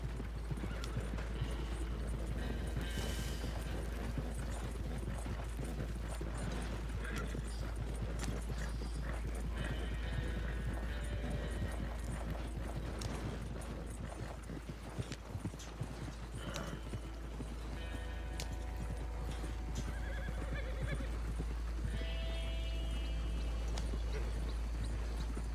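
Horses in Red Dead Redemption 2 clip-clop steadily along with occasional whinnies, over a dense, loud game mix with a heavy low rumble and mechanical rattling.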